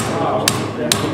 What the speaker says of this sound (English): now take this little hammer, tap it down in there